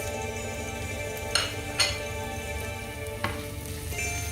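Whole spices, bay leaves, cinnamon, cloves, peppercorns and thyme, sizzling in a hot pan with garlic for osso bucco: a steady crackling fry punctuated by a few sharp clinks of utensil on the pan.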